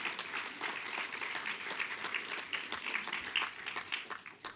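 An audience gives a round of applause during a keynote, a moderately loud, steady wash of many hands clapping with distinct individual claps, slightly fading at the close.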